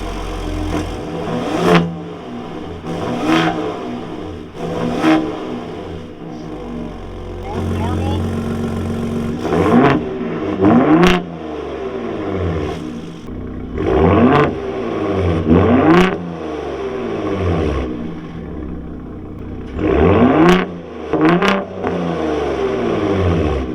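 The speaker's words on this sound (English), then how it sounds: "it has what they call a trombone exhaust. So it has a wrap in the pipe to actually make this V6 sound a lot better." A 2022 Ford Raptor's V6 engine revs repeatedly in bursts, its deep throaty sound through a wrapped trombone exhaust rising and falling between short idling pauses, close and loud.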